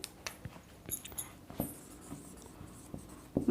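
A pen or marker writes on a worksheet or board in quiet, scattered strokes and taps, close by and fairly faint, with no talking.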